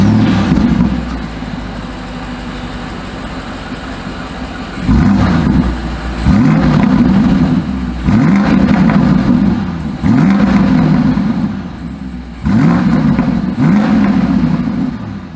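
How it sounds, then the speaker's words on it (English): A 2022 BMW X5 SUV revs its exhaust from idle in a series of sharp bursts, about five rising blips spaced a second or two apart, heard from close by with no talking. "As always, here is that exhaust clip."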